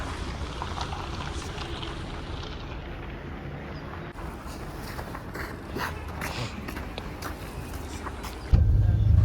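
A car passes along a city street in Almaty, Kazakhstan, its steady tyre and engine rumble blending into dense, continuous traffic noise that swells slightly toward the end.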